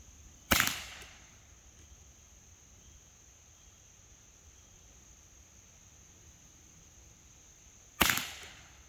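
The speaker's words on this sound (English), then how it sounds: "I'm going to fire another 3 pellets holding at the top of that red circle." A .22 caliber Beretta-style air pistol firing pellets: two sharp, loud cracks about seven seconds apart, each with a short decay, separated by quiet room tone with a faint steady high whine.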